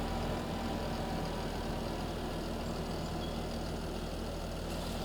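A farm tractor engine runs steadily with a weeder attached, a constant low rumbling drone that stays loud and unchanging throughout, with no voices.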